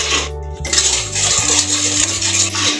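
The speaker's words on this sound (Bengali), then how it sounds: "খুন্তি দিয়ে ভালোভাবে কষিয়ে নেব।" Spices such as sugar, black pepper, coriander, cumin and turmeric being stir-fried in a pan with a metal spatula, a steady sizzle with repeated scraping and clinking strokes, close and continuous, with no talking.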